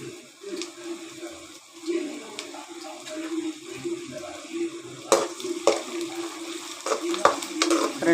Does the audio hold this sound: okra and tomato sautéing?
yes